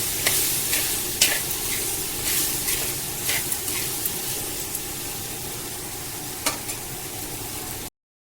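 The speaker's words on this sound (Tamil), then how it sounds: "காய் நல்லா வதங்கினோடனே நம்ம புளி ஊற்றி கொதிக்க விடுவோம்" Vegetables sizzle and fry in a pan before tamarind is added for sambar, a constant crackle broken by occasional sharp clicks and stirring scrapes, close up with no talking.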